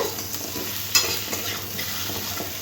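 Pumpkin with spices including ground coriander being stirred in a pan for a prawn and pumpkin curry, a soft steady sizzle with a few scraping strokes of a spatula and one sharper clink, no talking.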